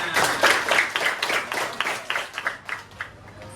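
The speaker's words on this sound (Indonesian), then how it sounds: "beri tepuk tangannya." Applause in an Islamic religious education classroom: a burst of many hands clapping that is strongest at first, then thins into scattered claps and fades over about three and a half seconds.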